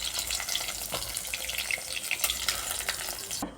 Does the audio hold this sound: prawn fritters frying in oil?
yes